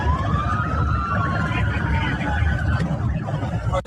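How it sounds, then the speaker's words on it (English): Siren from an ambulance-looking car in a chase scene, a wailing tone rising and falling above a dense rumble of noise and commotion, with a sharp click at the end. "Of course it's that ambulance-looking car."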